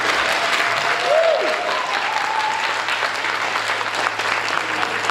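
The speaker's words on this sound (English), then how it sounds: "if you guys can give our panelists a round of applause" An audience at a sci-fi and fantasy author panel gives a round of applause, dense and steady throughout with a brief whistle early on.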